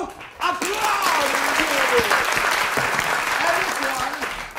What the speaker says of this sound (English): And when you see this, you applaud!